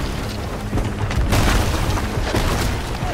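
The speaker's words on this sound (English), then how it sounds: "Finally, we got close enough to start throwing over some cannon shots." Ship cannon fire in the Sea of Thieves video game, heavy booming blasts over a constant rumble of sea and gameplay noise, with a larger burst in the middle of the short clip.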